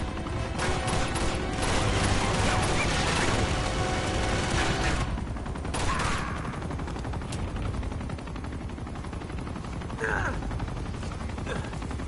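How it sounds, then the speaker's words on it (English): Dense video-game gunfire from Uncharted: The Nathan Drake Collection, with rapid automatic bursts and loud shots rattling almost continuously, easing slightly toward the end with scattered sharper cracks. "I get quiet whenever people are shooting at me"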